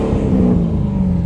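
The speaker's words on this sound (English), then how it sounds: "give it a rev. You rev it real quick?" A car engine idles and revs steadily at close range, a low droning hum holding with a slight rise in pitch midway, with no voices over it.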